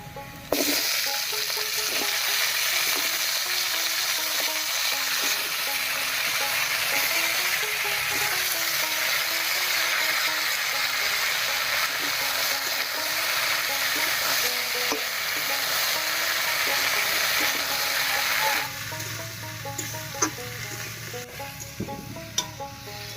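Potato, eggplant, taro and ridge gourd fry with browned onion in a pan, a loud continuous sizzle close by with stirring beneath it, easing off near the end, and no voices.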